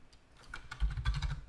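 Quick, light keystrokes tap out a short burst on a computer keyboard in a terminal, close and fairly quiet, with no talking.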